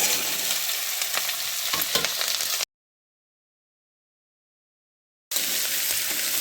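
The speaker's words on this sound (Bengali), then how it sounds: "লঙ্কাগুলোকে একটুখানি ভেজে নিতে হবে" Chopped chillies fry with garlic in oil for a chilli pickle: a dense, close hiss with scraping stirs that cuts abruptly to silence for a few seconds, then resumes.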